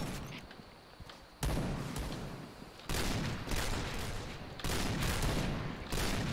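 Video game gunfire comes in rapid bursts of loud automatic shots, with brief quieter gaps between volleys.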